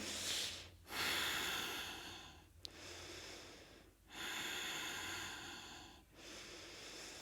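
Heavy, rhythmic breathing during a power yoga pose: several long, loud inhales and exhales close to the microphone, each separated by short pauses.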